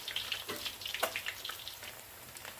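Tilapia pieces frying crisp in hot oil give a faint, steady sizzle full of tiny crackles and pops, with no voices.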